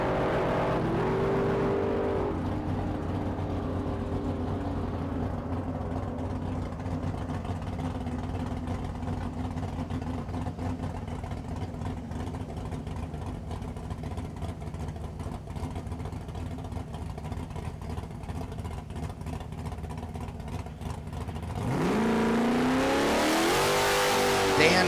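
At a Las Vegas drag strip, a 1955 Chevy and a 1984 Camaro launch together with a loud, sustained engine roar that holds steady for about twenty seconds, then a fresh surge of revving near the end, under a commentator's voice.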